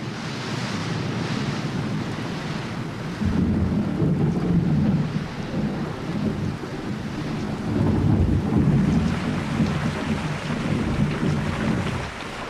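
Storm weather on an exposed British coast, with rushing wind and rain over steady surf and low rumbles like distant thunder, swelling in two louder gusts; no voices.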